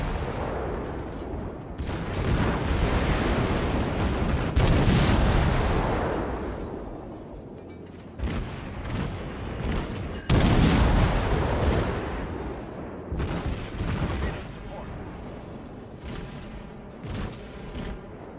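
Naval guns fire rapidly from a warship in a naval battle video game, with repeated heavy booms and blasts in quick succession and long rumbling decays, loud and close.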